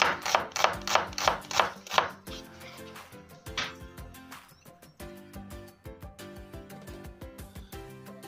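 A knife rapidly chops onion into half rings on a board, several bursts of quick rhythmic strikes, loud at first and then lighter and more irregular.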